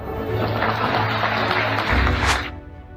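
Applause from a large crowd at a political rally, a dense roar of clapping that holds steady and then fades out quickly.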